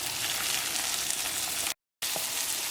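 Capsicum, carrot, beans and green chilli fry in a pan for bread upma, a dense continuous sizzle that cuts out briefly for a moment of silence and then resumes.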